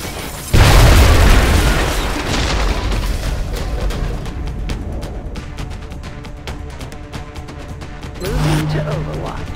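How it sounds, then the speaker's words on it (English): Frag grenade detonating in the video game XCOM Enemy Unknown: a single loud, close boom followed by a rumbling tail and scattered debris, with a voice speaking faintly beneath. "Frag out."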